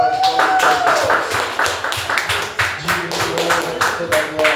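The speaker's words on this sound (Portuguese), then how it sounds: "Uma salva de palmas para Jesus." A church congregation claps in a fast, steady rhythm, loud and close, with voices talking and singing throughout.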